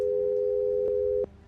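A phone line going dead gives a steady, loud electronic busy-signal tone that holds, pulses slightly, then cuts off abruptly near the end.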